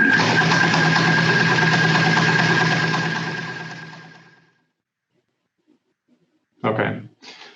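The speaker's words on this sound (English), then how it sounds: "So let me just run the engine a bit." Test engine running loud and steady during combustion measurement for about four seconds, a constant droning hum that then dies away into near silence, followed by brief voices at the end.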